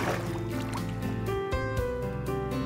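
Swimming underwater in Minecraft: muffled, continuous watery bubbling and trickling with steady game music layered over it throughout.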